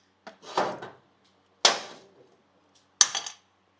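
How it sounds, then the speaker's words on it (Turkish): A spanner works the oil drain plug on a TVS Apache RTR 200 motorcycle, making three separate sharp metallic clanks and ratcheting scrapes, close by in otherwise quiet surroundings, with brief silences between them. "Şöyle karter tapamızı açıyoruz."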